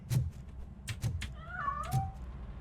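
Cat meowing in RoboCop: Rogue City, a drawn-out wavering meow in the middle framed by a few soft thuds and knocks, fairly close.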